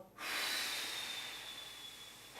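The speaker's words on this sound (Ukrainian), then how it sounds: "Робимо глибокий вдих через ніс, надуваємося, ребра роздуваємо в сторону." A deep breath drawn in through the nose during an evening lung-training breathing exercise: one long, steady, airy inhale, close and clear, with no talking.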